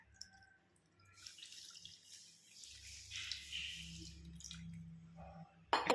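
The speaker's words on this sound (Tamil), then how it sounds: "காய்ச்சின பால் சேர்த்துக்கலாம்." Boiled milk pours into ragi malt sweetened with jaggery, making a faint, soft trickling and splashing that swells gradually, then ends in a brief clink, with no voices.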